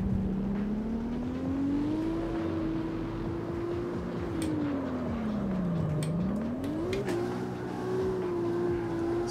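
Drifting car in the CarX Street video game, a steady engine drone that rises, dips and climbs again as the revs shift through the slide, loud and continuous with no talk.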